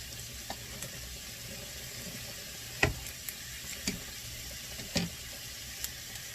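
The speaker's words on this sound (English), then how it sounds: "Let me stir the noodles here." Spaghetti noodles are stirred in a pot for a pork sausage bolognese, with a few soft scrapes and knocks over a steady background hiss of cooking; no one talks.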